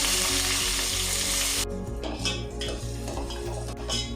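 A large onion fries in three tablespoons of oil, loud and hissing at first, then the sizzle drops sharply and gives way to stirring scrapes and clinks of a utensil against the pan.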